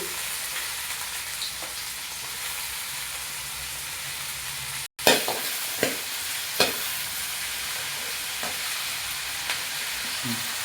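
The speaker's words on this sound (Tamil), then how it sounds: "கடுகு நல்லா பொரிஞ்சணும் வெந்தயம் போட்டுக்கணும்" Mustard seeds and fenugreek seeds crackle and splutter in hot oil, with a constant frying hiss, a brief break, and then several sharp pops and spoon scrapes close by.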